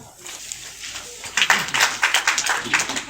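Audience applause at a Lions Club installation ceremony in a hall, a crowd clapping briskly and steadily after a quiet start, with a voice speaking over it at first.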